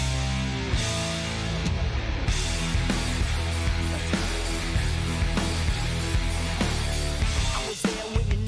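Loud, dense metal single plays steadily throughout, with heavy distorted guitars, driving drums and regular sharp hits, no talking over it.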